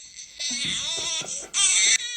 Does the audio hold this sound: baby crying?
yes